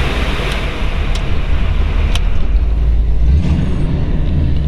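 A 1937 Buick Special four-door sedan resto-rod with a torquey 440 engine drives along. A steady, loud low rumble fills the cabin with a constant broadband road and wind wash and a few faint clicks.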